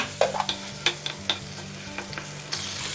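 Ginger and garlic paste fries in hot oil in a frying pan, giving a steady close sizzle broken by several sharp stirring clicks and scrapes of a utensil against the pan, with no voices.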